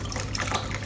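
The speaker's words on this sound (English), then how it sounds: "My soup is now finished, and I'm going to pour it into a bowl." Homemade gut-healing breakfast soup pours steadily into a bowl, a continuous close liquid splash and gurgle with no talk over it.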